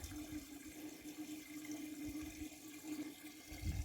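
Water from a rain barrel runs steadily into a container outdoors, a faint continuous splashing and trickling with a low hum underneath.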